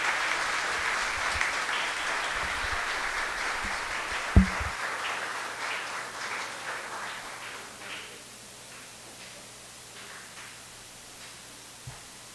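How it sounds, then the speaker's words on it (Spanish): Congregation applauding a priest at a Sunday Mass for Good Shepherd Sunday, a steady crowd clapping that holds for several seconds and then thins out to a quieter patter. "Un aplauso al Padre William."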